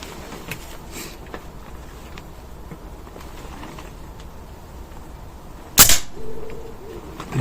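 A single sharp crack from an AP 900 air pistol firing a pellet at a target stands out near the end, after several seconds of quiet room tone.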